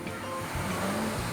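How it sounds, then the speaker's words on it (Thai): Strong ocean waves at a beach: a loud, continuous rushing roar of surf with heavy low rumble and no pause across the moment. "คลื่นแรงจังเลย"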